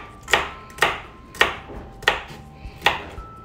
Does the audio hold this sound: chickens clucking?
no